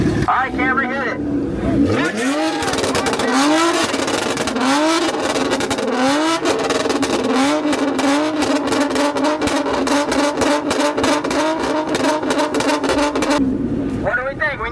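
Toyota Camry engine revved hard and held at high revs for over ten seconds, loud and close, with repeated rising sweeps of engine pitch before it settles into a sustained roar and then drops off.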